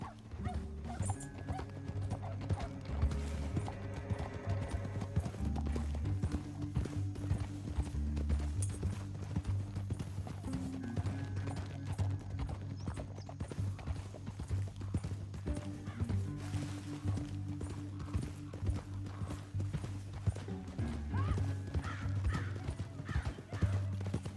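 Horses galloping with steady clip-clop hoofbeats in the video game Red Dead Redemption 2, continuous throughout under a layer of music and game ambience, with no talk.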